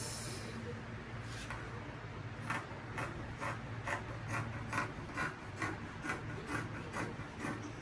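Scissors cutting dress fabric with sleeves, a steady train of rhythmic rasping snips repeating about twice a second, close and moderately quiet over a low room hum.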